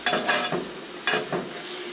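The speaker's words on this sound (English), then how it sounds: "we'll leave these tomatillos on here to get charred up better" Tomatoes and tomatillos charring on a home stovetop for Mexican salsa give a steady close sizzle, broken by two bursts of stirring or scraping against the pan.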